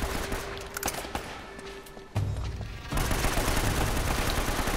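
Player's gun firing in the game Uncharted, shots heard up close and loud, mixed with other game sounds and no talking.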